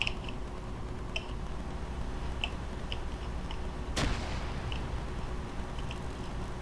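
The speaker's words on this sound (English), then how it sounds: "Oh, that was someone shooting a rocket?" Rocket blast in Arma 3: one sharp, loud broadband explosion bursts close by partway through, set against steady battlefield ambience and a few faint scattered ticks and pops.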